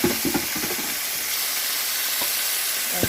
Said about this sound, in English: just putting a bit of soy sauce